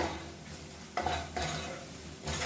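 Masala powder being stirred and sautéed in a pan for egg kola urundai kulambu, faint scraping strokes over a soft, low frying hiss.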